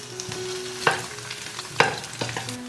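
Pork fat fries in a wok to render out its oil, a steady moderate sizzle broken by two or three sharp spatula scrapes.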